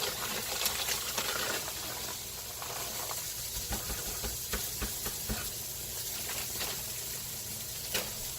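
Frozen hash browns sizzle on a BroilKing PCG-10 electric griddle, a steady hissing fry with scattered crackles and pops rising from the hot surface and no voices over it.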